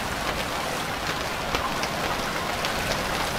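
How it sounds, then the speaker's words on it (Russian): Steady rain falls in the survival game Stranded Deep, a dense continuous hiss of drops on surfaces with no pauses, fairly loud and even throughout, with no voices. "Ну вот дождь вообще как бы не в кассу."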